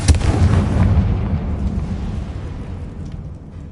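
A fire spell explosion in the Hogwarts Legacy video game opens with a loud, heavy boom. A deep rumbling roar follows and fades slowly over a few seconds, with no talking over it.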